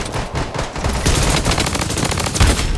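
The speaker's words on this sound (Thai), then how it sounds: "เหมือนมีเสียงปืน" Rapid, loud bursts of automatic gunfire crackle almost continuously in the video game Blood Strike, with dense overlapping shots and a few heavier blasts near the end.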